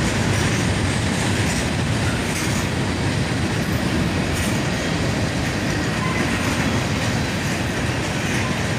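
A freight train led by an AC44CW and an ES44AC locomotive passes near Dayton, a loud, continuous rumble of wheels and rail clatter filling the whole stretch without letup.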